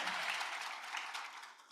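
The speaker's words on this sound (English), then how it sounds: "let's give her a round of applause for that." Faint round of applause from an audience at an author event, a brief wash of clapping that fades slightly toward the end.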